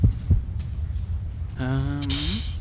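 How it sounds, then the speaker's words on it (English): A heartbeat sound effect in the video game Alien: Resurrection gives a few dull, low thumps over a quiet hum, followed by a rising, tonal electronic tone near the end. "Thankfully that got rid of the bloody heartbeat."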